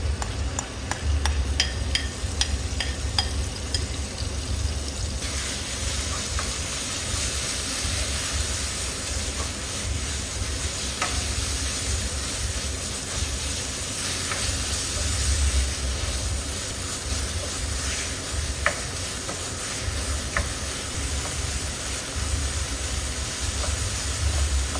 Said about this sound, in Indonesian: Kemudian kalian tumis ayamnya.